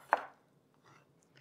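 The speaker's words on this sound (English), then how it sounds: "I'm just going to just roughly chop those or dice them" A knife makes one crisp chop through soft tomatoes on a cutting board, a single close, sharp knock followed by quieter faint taps and near silence.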